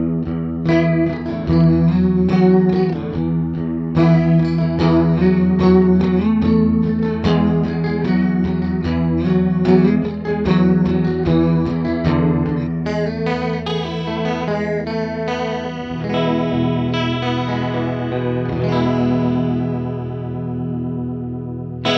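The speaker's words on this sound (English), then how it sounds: "this chorus on this pedal does a great job of that really awesome 90s chorus sound" Electric guitar riffs played through the chorus effect of a Sonicake Sonicbar Rockstage pedal, with a 90s-style modulated shimmer and distortion, continuous loud chords and single-note runs with no talking.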